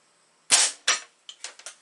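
A Diana Trailscout .22 caliber air rifle fires a sharp pellet shot after a moment of quiet, followed by a second crack and a quick cluster of smaller clicks and snaps, close and loud with no talk.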